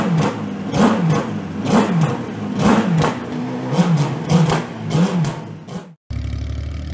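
Porsche 919 Hybrid Le Mans race car, the 2016 winner, revving its engine in about eight sharp rhythmic blips, loud and close, before the sound cuts off abruptly.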